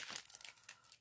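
Small plastic packaging holding new embroidery scissors crinkled up close, a quick burst of crackly rustles that trails off into lighter crinkles.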